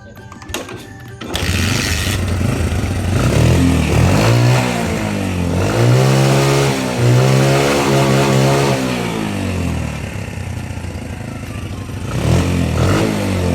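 A Bajaj motorcycle engine, converted to a Lifan 110 or 4-pin CDI, runs roughly at low RPM, its uneven idle swelling in a few unsteady revs and then settling back. The engine is close and loud, with no talk over it.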